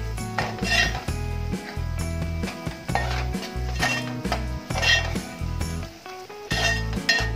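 Masala frying in a pan while a spoon stirs it, with repeated close metal scrapes and clinks against the pan over a steady soft sizzle, no talking.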